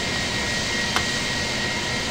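Steady, even roar of an airliner taking off in Microsoft Flight Simulator X, a broad engine rumble that holds level throughout with one brief click partway through.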